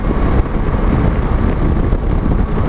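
A motorcycle rides along an open countryside road toward Talhados in São Paulo, loud wind buffeting the microphone in a continuous low roar with a muffled engine underneath.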